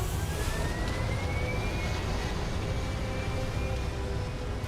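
Spaceship lifting off in the video game Starfield: a steady, loud jet-like engine roar with a slowly rising whine, sustained without break and no talk over it.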